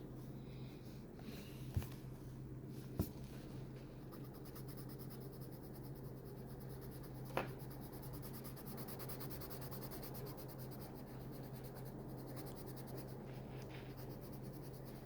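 A pen scratches and rubs on paper while colouring a drawing of the rumble fruit from Blox Fruits, a quiet, close, continuous scribbling texture with a few faint taps and no voices.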